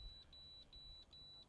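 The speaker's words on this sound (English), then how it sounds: "One little problem with it is that the alarm isn't terribly loud." Depth alarm on an Axiom chart plotter sounding as a faint, steady high-pitched electronic beep, repeating in regular short pulses about five times a second across the whole stretch, with no voices.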